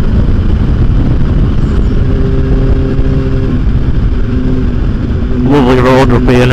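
A 2008 Yamaha R1 sport bike accelerates past another vehicle. A loud, steady engine drone rises into a sharp revving burst near the end.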